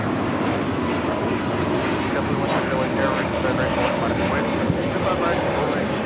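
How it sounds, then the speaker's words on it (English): At LAX a Delta Air Lines Airbus A321neo departs for Los Cabos, its engines giving a steady, dense roar at moderate distance, with faint voices in the background. "This is Delta Airlines 1875 taking off to Los Cabos on the A321neo"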